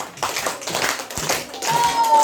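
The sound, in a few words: class clapping five claps of praise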